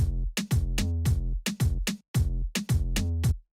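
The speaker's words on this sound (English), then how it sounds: "Then with the Dembow and snare" Moombahton beat with a dembow rhythm and snare over kick and deep bass, loud and punchy in repeating syncopated bursts with brief gaps between hits.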